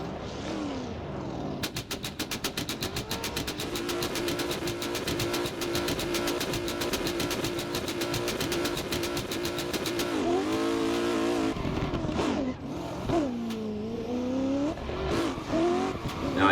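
Drift car in a competition drift battle, chasing another car for a top-8 run: loud, sustained engine revving on the limiter with rapid rhythmic pulses, then shifting revs and bursts of screeching tire squeal, near and continuous with no talk.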